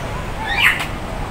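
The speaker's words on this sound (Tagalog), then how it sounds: "Ayan, may mga ibon guys." A single brief bird call rings out inside a netted aviary in Kowloon, Hong Kong, a short faint chirp over a low background hum.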